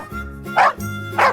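A cartoon-style dog barking twice in quick succession, close and loud, with short yelping tones between the barks.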